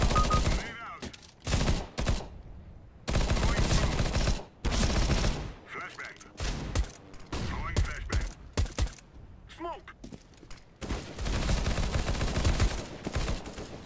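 Bursts of rapid automatic gunfire spray through smoke in the Counter-Strike: Global Offensive video game, coming in loud repeated volleys separated by short gaps, with a voice talking over parts of it.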